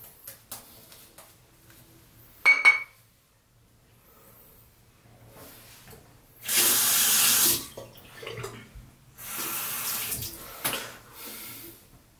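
Water running from a tap as a face is rinsed after a wet shave, heard as two loud bursts of splashing flow separated by quieter stretches, with small clinks and handling noises between.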